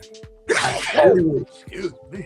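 A single loud sneeze bursts out close by during a sports talk show, followed by a brief spoken apology and then further talk.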